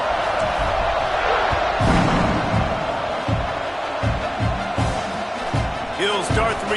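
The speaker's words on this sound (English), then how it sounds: "this crowd is buzzing after that last score." A packed football stadium crowd buzzes steadily after a score, a dense, continuous roar filling the space with scattered louder swells, thumps and distant whistles, while a voice talks over it.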